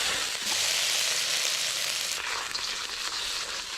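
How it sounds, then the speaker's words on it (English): Ingredients sizzle loudly in a hot pan during outdoor cooking, a steady close hiss that swells briefly, then continues evenly throughout. "Fire up the pan and throw everything in."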